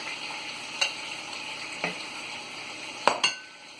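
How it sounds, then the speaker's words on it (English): Onion, ginger and garlic paste fries in hot oil with a soft, steady sizzle, and a spoon knocks sharply against the pot now and then as it is stirred. "this is the paste that I made earlier with onion, ginger and garlic"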